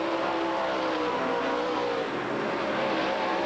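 Dirt late model race cars roar at full throttle during a feature race at the Knoxville Late Model Nationals, a dense, continuous engine drone that stays loud and steady throughout with no clear breaks.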